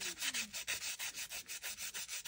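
Rhythmic back-and-forth sanding of a 3D printed plastic body for a 2024 Ford Mustang Dark Horse kit, about a dozen quick, even rasping strokes close to the microphone with no talking.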